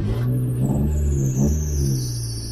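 A Mazda car engine cranks and catches after repeated failed attempts, with a low, uneven starter churn that gives way to a steady idle hum, loud and close with no talking.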